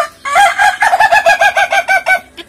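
A guinea fowl gives a rapid series of loud, harsh repeated calls, about a dozen pulses in quick rhythm, close by with no talking.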